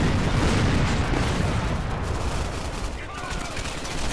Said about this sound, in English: If y'all want to spam grenades, we can spam grenades.